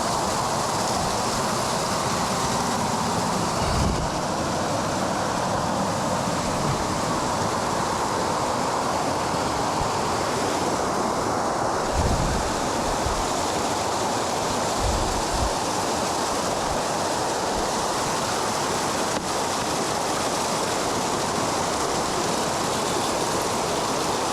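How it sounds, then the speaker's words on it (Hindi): Strong water flow rushing over rocks on a monsoon trek to Visapur Fort: a loud, continuous broadband roar that stays steady throughout, with no voices. "इतना पानी का फ्लो है"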